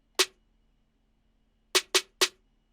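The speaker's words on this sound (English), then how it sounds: "Originally the snare sounds like this." Four sharp snare hits, one alone, then a quick group of three after a pause, crisp and dry against near silence.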